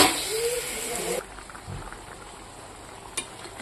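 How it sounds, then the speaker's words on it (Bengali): Water poured into a simmering potato and stem curry: a brief loud hiss and sizzle at the start that quickly drops to a soft bubbling simmer, with a faint clink near the end. "এবার পরিমাণ মতো জল আগে করে তরকারিতে দিয়ে দিলাম"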